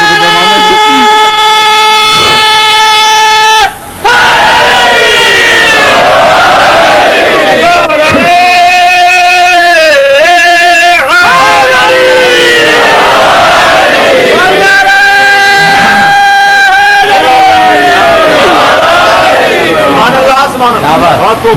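A large gathering at a religious assembly chants a slogan in Urdu, voices rising in long sustained waves over a loud crowd roar, with a brief break near the start and chants swelling repeatedly.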